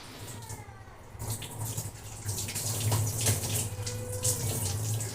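Water runs steadily from a tap into a sink as someone washes their face, a broad rushing flow that starts quietly and grows louder after the first second, with small splashes, no talking.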